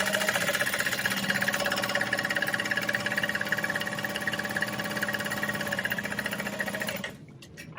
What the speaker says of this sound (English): This is my first time sewing with this vinyl